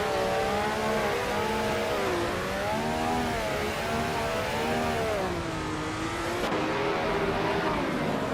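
Race cars circuit racing, engines whining at high pitch with rising and falling revs, several cars close together in a steady loud drone with no pauses.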